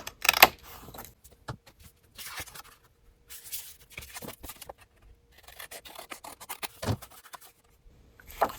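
Thin cardstock being cut to trim off a fold and border, heard as quiet scraping and rasping strokes with brief sharp snips at intervals, close up and without any talk.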